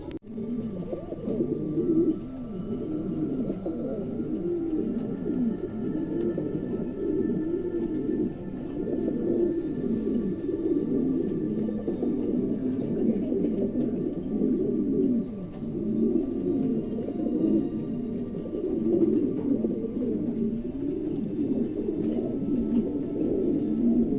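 Adult male pigeons coo steadily and close by, their low throaty, wavering calls overlapping in a continuous chorus with no talking over them.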